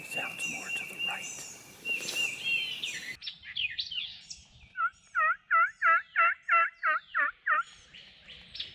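Wild turkey gobbling in the North Carolina woods, a rapid series of about eight loud, rattling gobble notes in a quick rhythmic burst, preceded by softer bird chirps and faint talk.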